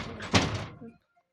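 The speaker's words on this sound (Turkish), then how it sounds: "Kapıyı da kapat." A door closing in a Roblox game, a single thudding slam that cuts off into silence, close and fairly loud.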